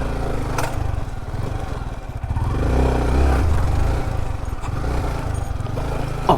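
A motorcycle engine laboring along a muddy village path near a border, a steady rough drone that swells slightly as the rider pushes through, close and continuous with occasional clattering knocks.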